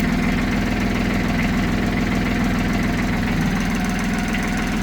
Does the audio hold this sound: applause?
no